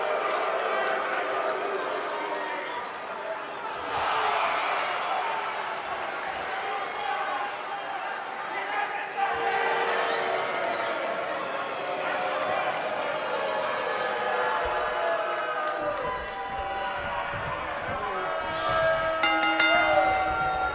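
A sold-out arena crowd at a tournament's singles match keeps up a dense, steady roar of chatter and murmuring, with scattered louder swells and a burst of cheering near the end.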